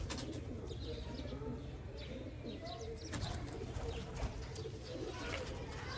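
A pair of slate Ferozpuri pigeons coo softly and intermittently against a steady background hum, with faint chirps and a brief flutter of wings nearby.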